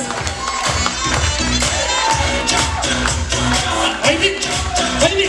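A live audience at a stage event claps and cheers continuously, a loud dense crowd roar with scattered shouts, no clear speech.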